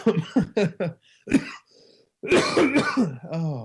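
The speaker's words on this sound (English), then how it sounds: "still kicking the cough from the nasty bug" A person coughs and clears their throat several times up close, with short hoarse bursts broken by brief pauses and a final raspy breath.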